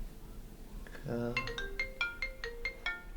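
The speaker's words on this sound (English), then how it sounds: "Whoa, pick up the phone." A phone ringtone plays a repeating melodic electronic tone pattern, moderately loud against a quiet background, in a short film scene.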